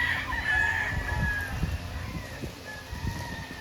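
A rooster crows among clucking chickens on a poultry farm housing thousands of birds, the calls mid-distance over a low, busy background of fowl noise.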